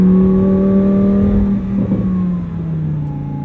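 Supercharged 840-hp Lamborghini Huracan STO drops a gear and then pulls hard, its engine note falling briefly before a sustained rising whine and roar, loud and up close with no talking.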